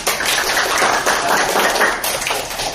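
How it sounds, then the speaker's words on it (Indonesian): A classroom claps for a student group after its presentation, a dense, continuous patter of many hands filling the room at close range. "terima kasih ya untuk kelompok 1, tepuk tangan"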